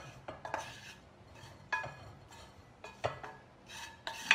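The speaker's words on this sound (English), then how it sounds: "Let me just grab my wooden spoon. I'm gonna put it in a mixing bowl right here." A wooden spoon scraping and knocking stuffed squash filling into a mixing bowl, making a series of soft, irregular taps and scrapes close by in a quiet kitchen.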